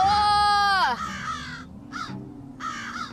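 Crows caw eerily at dusk in a Marathi horror drama, a series of loud, harsh calls close by, broken by short pauses, with a voice also heard.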